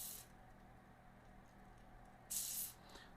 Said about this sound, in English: Just going to spray some in there and let it kind of work its way in.